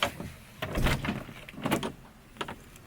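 A Volkswagen Beetle car door opening, with several close mechanical clunks and latch clicks separated by short pauses.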